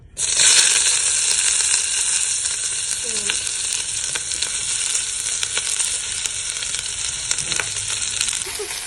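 Chopped onion sizzles loudly in melted coconut oil in a kettle, a steady close-up frying hiss running throughout with faint stirring clicks and no talk.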